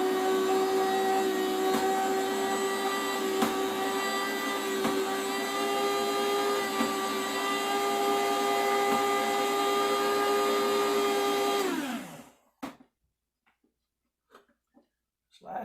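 A new electric food slicer runs with a steady loud motor whine and hum for about twelve seconds, then spins down and stops, leaving a few faint clicks and handling noises.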